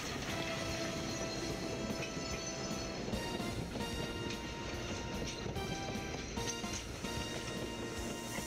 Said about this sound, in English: here's a clip of an arriving train